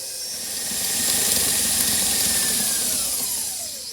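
Electric mixer beating gluten-free pecan brownie batter on high: a steady, whirring motor hum with a hissing, gritty texture that swells and holds for a few seconds, with no voices.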